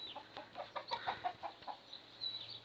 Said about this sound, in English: we actually have chickens